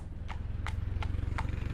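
A horse in care for gut ulcers moves with steady, rhythmic hoof clops that come close and clear, about five regular beats under a low rumbling background, with no whinny evident.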